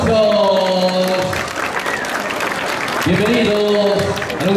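An audience at a school anniversary celebration claps and applauds, the clapping continuous and fairly close, with voices and tonal sounds on top.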